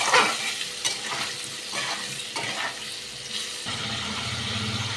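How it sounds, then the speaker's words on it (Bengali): Spices with salt and turmeric fry and get stirred in a pan while cooking a cabbage and katla fish head dish, a steady close sizzle broken by repeated scraping stirs, with a louder hiss building near the end. "আমি মশলাটাকে আবার খুব ভালো করে একটু ভেজে নেব।"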